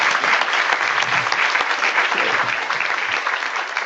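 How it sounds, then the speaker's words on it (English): Audience applause at a conference opening plenary session, a dense, steady clatter of many hands clapping throughout, gradually tapering slightly. "So a round of applause for everybody really quick."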